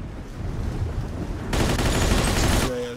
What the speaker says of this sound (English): This motherfucker threw a fucking grenade at me.